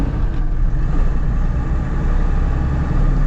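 Diesel Mercedes G Wagon with a manual gearbox, pulling in first gear, gives a steady, loud low engine drone from inside the cabin, continuous throughout with no talk.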